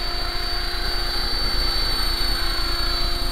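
An HK500GT radio-controlled model helicopter running, a steady high electric motor whine with a constant rotor drone, loud and close throughout.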